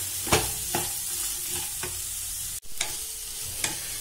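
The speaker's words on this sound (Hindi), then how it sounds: "इसको हमें अच्छे से फ्राई करना है वेजिटेबल को" Vegetables frying with sugar, Kashmiri red chilli powder and turmeric for leftover-rice fried rice crackle in a steady sizzle while a spoon scrapes the pan in repeated strokes, with one brief dropout partway through and no talking.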